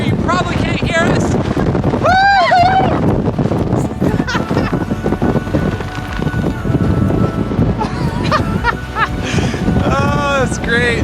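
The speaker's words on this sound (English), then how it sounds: "The wind is blasting," Strong wind blasts across an open mountain lake in the backcountry near Mount Ritter and Banner Peak, roaring into the microphone as loud, buffeting gusts while people talk and shout over it.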